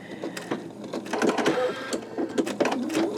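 An embroidery machine stitches a green leaf in a skull design, giving off rapid mechanical needle clatter with a whirring motor and uneven bursts of ticking, up close and with no voices.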